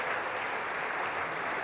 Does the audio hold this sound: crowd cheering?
yes